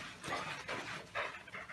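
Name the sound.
dog panting and whimpering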